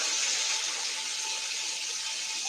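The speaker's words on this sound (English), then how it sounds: "I'm gonna rinse my hands quick" Tap water runs steadily into a sink while hands are rinsed in a kitchen, a continuous close hiss and splash with no break and no talking.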